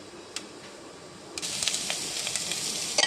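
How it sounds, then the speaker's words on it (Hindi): One small chopped onion frying in a pan for a vegetable diet soup: a faint hiss swells into steady close sizzling about halfway through, dotted with small pops and crackles, no voices. "ये प्याज हमने इसके अंदर डाल दिया है। अब इसे भी हम थोड़ा सा फ्राई कर लेंगे।"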